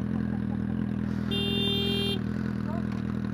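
Motorcycle riding with no exhaust fitted, a steady low engine drone with a brief tonal whine partway through, heard from the rider's position on a twisty road during a spring ride-out.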